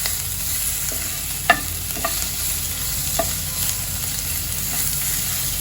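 Green chili and ginger paste with curry leaves sautéing in a pan for Khandeshi buttermilk kadhi: a steady close sizzle broken by a few sharp spoon taps and scrapes against the pan.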